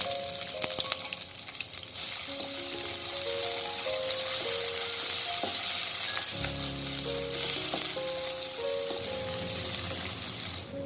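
Cumin seeds, bay leaves, cinnamon, cardamom and chopped onion sizzle in hot oil: a loud, steady, close frying hiss that swells as the onion goes in, with faint tonal hums in the background and no talk.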